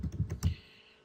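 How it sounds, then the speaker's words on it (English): A password is tapped out on a computer keyboard as a quick run of four or five close, soft key clicks that then fall silent. "So we'll go ahead and type in a password here."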